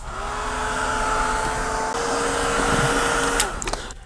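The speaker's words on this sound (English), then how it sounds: "I am going to go ahead and hit it with the heating tool because it's feeling a little wet" A craft heat tool runs over ink on Mod Podge-coated paper, giving a loud, steady blowing whir with a faint tonal hum held close for about four seconds, then ending in a few light clicks and knocks.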